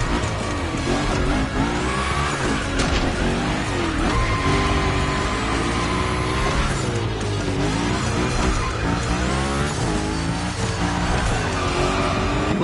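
A car slides through gymkhana drifts in the racing game The Crew Motorfest, with a continuous loud engine roar, shifting revs and tire squeal throughout, no talking.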